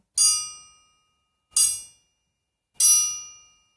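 Three bright metallic strikes on a triangle ring out at even intervals, each chime sharp at first and then fading quickly into silence.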